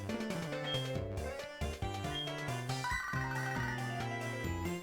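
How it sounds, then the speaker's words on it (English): Incoming phone call ringtone in Pokémon SoulSilver: a bright, melodic chiptune jingle of repeating stepped notes plays steadily and clearly on its own. "Oh, that's right, he gets his phone call."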